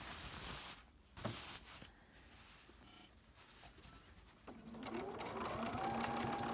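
A sewing machine stitching over a previous line of stitches; after some soft handling noises, the motor's whirring hum starts and rises steadily in pitch, close by and fairly quiet.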